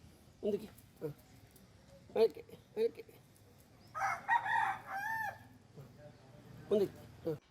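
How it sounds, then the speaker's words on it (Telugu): Kadaknath chickens on a poultry farm give short clucks at irregular intervals and one longer crowing call in the middle, close and moderately loud over a quiet background. "నా దగ్గర కొన్ని కడక్నాథ్ కోళ్ళు ఉన్నాయి"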